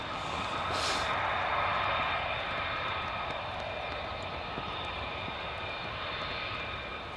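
A fighter jet at RAF Lakenheath roars steadily at a distance, a broad sustained engine rumble with a brief higher burst near the start, with no one talking.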